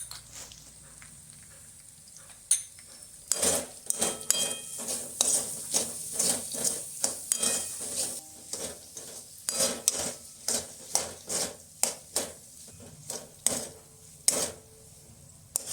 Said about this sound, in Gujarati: આ બધી વસ્તુને બરાબર આપણે મિક્સ કરી નાખીશું।